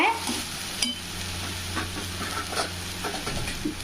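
Banana flower sautés with tomato in a pan. A continuous close sizzle is broken by intermittent stirring scrapes and light clatter.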